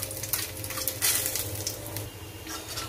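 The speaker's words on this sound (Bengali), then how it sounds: "হিং দিয়ে এবার এটাকে মশলাটাকে একটুখানি নাড়িয়ে নিয়ে" Spices frying with asafoetida in a pan while being stirred, a steady close sizzle with light scraping and clinks of a utensil against the pan, no talking.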